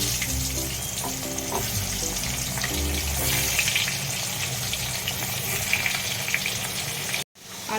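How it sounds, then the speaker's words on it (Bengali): Potato pieces fry in hot oil in a kadai for Kolkata-style chicken biryani, a loud, steady close-up sizzle with faint tonal hum underneath that cuts out briefly near the end. "ওই তেলের মধ্যে আমি এটা ভেজে নেব"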